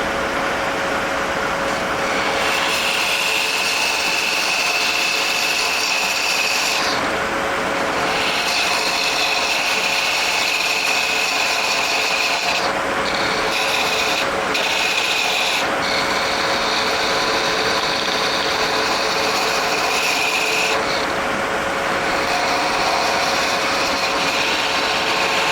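A wood lathe turns a walnut pawn from a round blank, giving a steady loud whir with a high whine. The tone shifts and breaks off briefly several times as the tool meets the wood.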